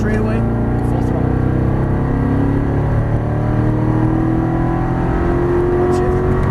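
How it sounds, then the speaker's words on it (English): A Chevrolet Corvette Stingray accelerates at full throttle on a race track, its engine a loud, steady roar climbing in pitch, with someone talking over it throughout. "Squeeze all the power. Looking down the straightaway. Full throttle."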